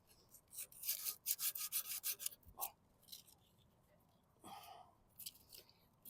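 Coarse sandpaper rubbing on a part from a 21-inch Murray walk-behind lawn mower, a burst of quick rhythmic scratchy strokes, then a pause and a few more rasping passes, close and fairly quiet.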